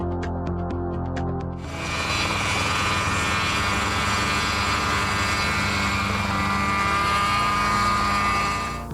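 A Mosquito ultralight helicopter, five metres long, starts with a few sharp clicks and then swells into a steady, loud engine and rotor drone that holds close and unbroken.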